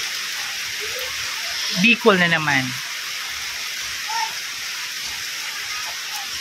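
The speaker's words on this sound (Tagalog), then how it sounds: "Naulan na talaga." Steady rain from Typhoon Pepito hisses evenly throughout, with a person speaking briefly over it partway through.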